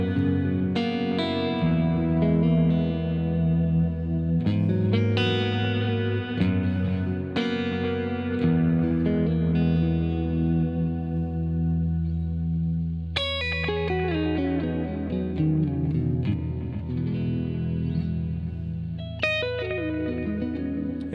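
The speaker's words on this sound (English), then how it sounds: "For my delay, I'm using a Strymon. It's doing this thing, that kind of fake verb thing." A Gibson Les Paul Murphy Lab Lemonburst electric guitar played through a Strymon delay set for a fake-reverb wash: sustained chords and picked notes ringing into long echoing tails, loud and close with no talking.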